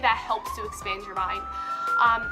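An emergency vehicle siren wails steadily through a city street, a rising then sustained tone running beneath a person speaking close by.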